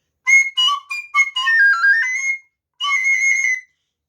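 A recorder plays a series of very high, shrill notes, several short separated toots followed by a longer sliding phrase and a final held note, clear and close with silence between.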